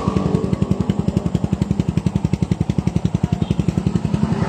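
Motorcycle engine fitted with a pure stainless 304 exhaust pipe idling close by, a loud, steady, rapid thumping pulse with no talk.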